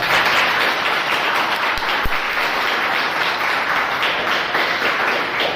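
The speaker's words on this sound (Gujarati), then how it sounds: "પ્રોજેક્ટને આપણે સૌ તાળીઓના ગડગડાટથી વધાવીએ" An audience at a Rotary teacher-encouragement event applauds, a dense, steady wash of many hands clapping that fills the whole stretch, with a couple of louder single thumps partway through.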